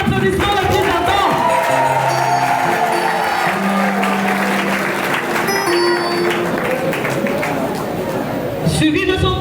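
Audience applause at a union gathering of financial workers in Kwango, loud and continuous with cheering and chatter mixed in, while talk and some tonal sounds carry over it throughout.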